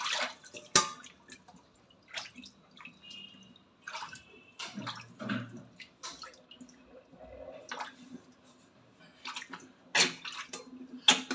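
Water is poured and splashed over someone being washed, coming in quiet, scattered bursts of splashing and dripping with pauses between, fairly close and without talk.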